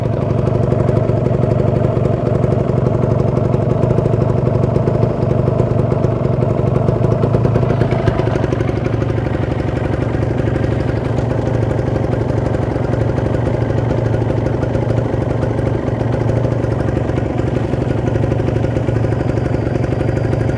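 A Kawasaki Ninja 150 RR two-stroke engine idles steadily while warming up, its loud, continuous, even putter holding a stable rhythm with no talk over it.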